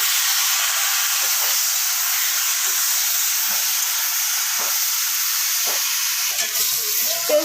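Potatoes fry in a pan, giving a loud, steady sizzle and hiss that runs the whole time, with occasional scraping strokes as salt is stirred through them.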